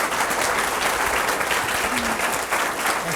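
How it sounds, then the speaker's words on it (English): An audience applauds two professors at the close of a talk on the science of relationships, with dense, steady clapping that fills the room evenly from start to finish. "Join me in giving these awesome professors a round of applause."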